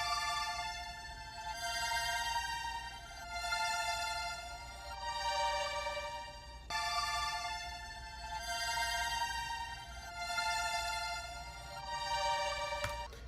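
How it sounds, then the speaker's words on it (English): A layered string sample, consolidated and sped up, built for a track: sustained bright harmonic string chords swelling and fading in repeating phrases over a low steady bed, with no voices. "Okay, so next we have the string layers"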